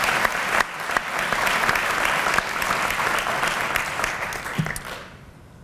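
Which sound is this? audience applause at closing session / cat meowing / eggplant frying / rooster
audience applause at closing session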